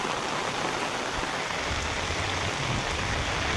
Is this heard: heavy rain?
yes